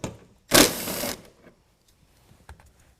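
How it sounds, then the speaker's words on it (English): A 10mm wrench works a headlight assembly bolt on a 2019 Ram 1500, giving one close, half-second burst of rapid ratcheting, followed by a few faint clicks and light handling in a quiet space. "We're going to remove that with a 10mm, but make sure that you hold on to the headlight"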